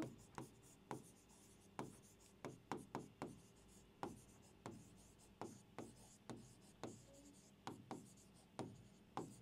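Handwritten notes during a physics lesson: a quiet pen scratching on paper in short, irregular strokes and taps, some spaced apart and others in quick clusters, with no talking.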